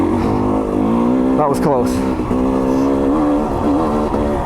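A KTM 300 XC-W two-stroke dirt bike engine on a hill drones loudly and close, its pitch wavering and jumping briefly as the revs change, with a rider talking over the engine noise.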